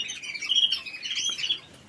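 A pet bird squawks in harsh, repeated bursts close by, loud and continuous across the moment with no talk.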